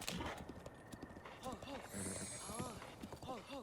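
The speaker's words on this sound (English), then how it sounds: "so we got our horse, Gucci Mane, back." Horse hooves clip-clopping in the video game Zelda: Breath of the Wild, a steady galloping rhythm with the occasional whinny, over game music and sound effects with a voice talking at moments.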